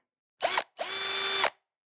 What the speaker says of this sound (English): The work will involve drilling a small hole through your wall